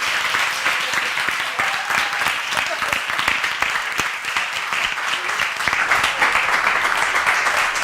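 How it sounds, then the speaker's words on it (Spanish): Sustained, loud applause from an audience at a museum panel discussion, dense clapping filling the room for several seconds with no clear break. "me acompañéis ahora en un aplauso de agradecimiento y reconocimiento para Elena."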